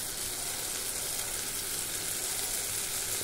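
Mushrooms frying in butter in a kadhai, a constant close sizzle with fine crackling and hiss, steady in level for a few seconds without talking.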